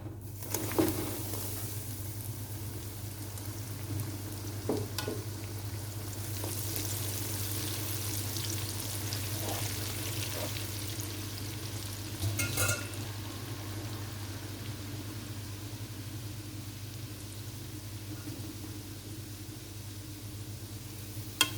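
Milky chin chin dough frying in hot oil, a steady low sizzle and bubbling held throughout, with occasional brief clatters and a louder burst midway.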